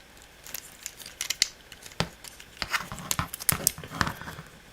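Small plastic clicks and snaps as parts of an Optimus Prime transforming toy are folded into place, a quiet scattering of close, sharp taps spread irregularly over several seconds.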